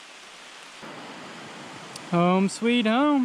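Steady rain at a backpacking campsite in the Lost Cove Wilderness Study Area near Wilson Creek, Pisgah National Forest, North Carolina, makes an even, close hiss throughout, and someone speaks over it near the end.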